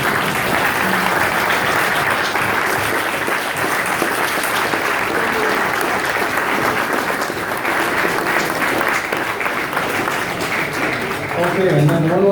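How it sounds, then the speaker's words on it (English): Loud, continuous applause from an audience honoring military veterans at a business event, thick clapping with cheering voices underneath for the full stretch. "Let's give them a great round of applause."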